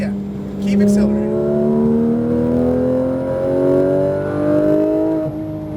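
A car accelerates around a driving course at Speed Vegas, its engine note climbing steadily in pitch through the gears, loud and close, with an instructor talking over it.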